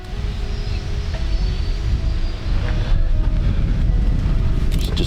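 Steady breezy wind on a chilly mountain morning at a campsite, a continuous low rumble of gusts buffeting the microphone with no pauses.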